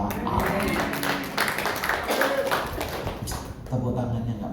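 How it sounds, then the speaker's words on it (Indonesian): A church congregation at a New Year worship service clapping along, with a dense patter of hand claps under a voice and other voices. "Tepuk tangannya nggak mantap."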